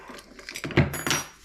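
A set of Allen keys handled on a bike workbench, giving a short burst of light metallic jangling and clinking, close and fairly quiet, over about a second.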